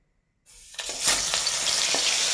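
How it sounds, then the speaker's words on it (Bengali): Bhola fish pieces dropped into hot mustard oil in a karai burst into a loud, close sizzle after a moment of silence, with a few crackling pops over a continuous hiss and no talking. "বন্ধুরা এবার মাছগুলো আমরা এক করে ছেড়ে দিচ্ছি"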